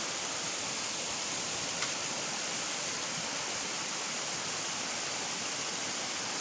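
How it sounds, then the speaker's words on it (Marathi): Small streams of water flow across abandoned open fields, giving a steady, broad rushing wash that holds even and continuous throughout, with no voices. "छोटं मोठं झरे कसे वाहतात ते बघू शकता."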